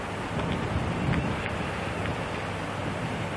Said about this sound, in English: Very windy today, we're driving straight into a headwind.